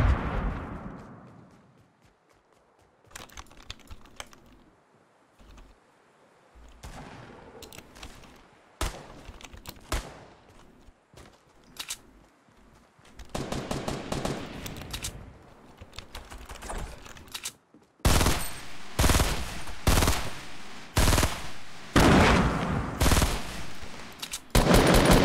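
Gunfire in a first-person shooter video game: bursts of rapid shots and single cracks come in clusters with quiet gaps, growing louder and denser toward the end.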